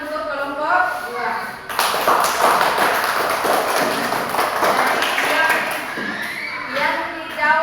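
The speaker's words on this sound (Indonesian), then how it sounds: "Beri tepuk tangan untuk kelompok 2." A class claps for a student group, a burst of many hands starting sharply and continuing as a lively, uneven patter near the listener, with voices mixed in beneath it.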